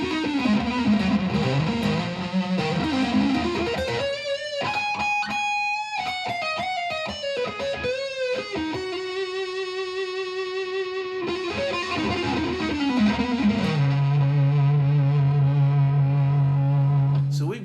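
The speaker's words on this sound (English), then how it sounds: "we've got a sick, nasty, sustainy, feedbacky level of distortion available from this amp" Heavily distorted electric guitar through a Blackstar HT 20 Mk II tube combo amp, playing sustained, saturated notes and bends, with a long feedback-like held tone near the end, loud and continuous.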